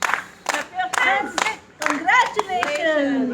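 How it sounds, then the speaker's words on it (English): At a retirement celebration for Amita Mehra, hands clap in a loose rhythm, sharp claps landing roughly every half second under an energetic voice. "clap your hands"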